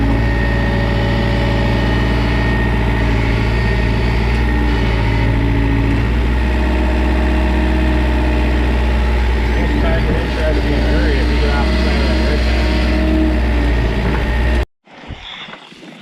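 An excavator engine runs steadily and loud on a wet rig mat while a fence berm is dredged, a constant close rumble that cuts off abruptly near the end, with someone talking over it.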